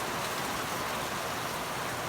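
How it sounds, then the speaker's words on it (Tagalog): Heavy rain pours down in a dense, continuous hiss of drops on surfaces, steady and close with no talking. "Ayan guys, lakas ng ulan, no?"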